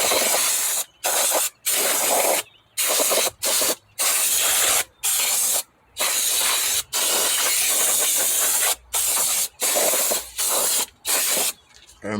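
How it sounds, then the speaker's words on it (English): An aerosol can of brake cleaner sprays in repeated short and long bursts with brief pauses between, close and loud, hissing steadily, during valve cover gasket work on a four-cylinder Mazda6. "So this is a brake cleaner. What you want to do, you want to spray it like this"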